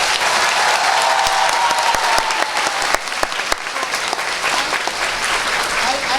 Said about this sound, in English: Please welcome with a loud round of applause.